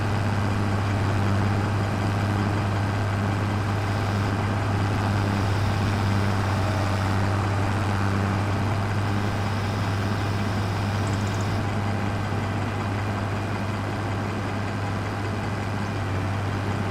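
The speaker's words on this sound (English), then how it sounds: "The engine's rattling, guys. I can hear it." Steady idling engine with a constant low hum and faint mechanical rattle running throughout, close and continuous, with no talk over it.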